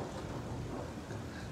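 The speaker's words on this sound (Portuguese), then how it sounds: "Agora é só trovão." Low, continuous rumbling thunder rolls through a dawn spring storm over São Paulo, with no break in it and only light rain noise beneath.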